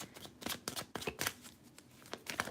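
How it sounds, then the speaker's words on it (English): A deck of tarot cards is riffled and shuffled up close, with quick papery bursts of flicking and slapping at an uneven rhythm, faint and alone. "so I'm going to keep shuffling"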